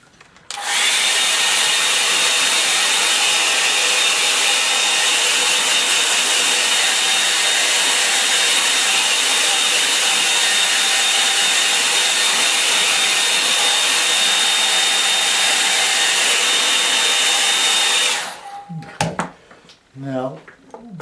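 A hair dryer runs steadily for about seventeen seconds, drying a watercolour painting with a loud, constant whooshing hum, then switches off and leaves a few quiet handling noises.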